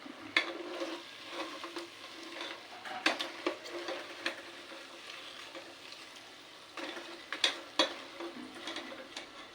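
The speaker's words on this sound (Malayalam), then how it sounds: "അങ്ങനെ ഇതെല്ലാം ഇങ്ങനെ പൊരിച്ചെടുക്കാം" Snack pieces fry in hot oil with a soft, steady sizzle, broken by scattered clicks and scrapes as they are stirred and turned in the pan.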